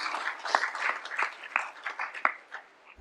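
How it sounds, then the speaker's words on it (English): An audience at a 4-H awards ceremony gives a round of applause for the award winners, a moderate, fairly close wash of clapping with a few sharper claps standing out, tapering off at the end. "Please give a big round of applause for all of these 4-H'ers"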